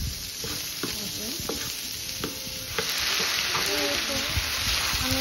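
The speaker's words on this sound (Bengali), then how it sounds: "আমি এখন কর্ন দিয়ে দিলাম। তো সব কিছু এখন ভেজে নিচ্ছি।" Corn frying and being stirred in a pan for a creamy pasta dish, with a steady close sizzle and scraping spoon strokes throughout, growing slightly louder partway through.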